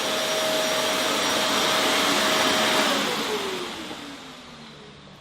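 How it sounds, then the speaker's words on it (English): A household vacuum cleaner runs with a steady, close, loud whine and broad hiss, its pitch sliding lower as it winds down toward the end. "let me turn on the vacuum cleaner and see what happens."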